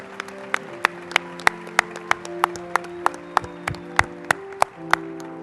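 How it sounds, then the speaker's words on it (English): Applause for bachelor's graduates at a university commencement ceremony, distinct claps ringing out in a loose, fairly regular rhythm with a sustained tone and light crowd murmur beneath. "we please have a round of applause for all our Bachelor's MDS graduates?"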